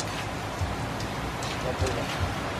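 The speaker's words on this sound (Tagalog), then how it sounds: "Yan na naman ang ulan." Heavy rain falling during typhoon Pepito in a rural province, a steady hiss of downpour with a few faint drop impacts, fairly quiet and continuous.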